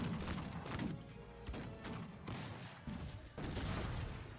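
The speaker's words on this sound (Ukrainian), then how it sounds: "Артилерія розстрілює" Artillery fire in the strategy game Cossacks 3 during an online ranked battle, with dense rolling volleys of shots and booms bursting in repeated waves.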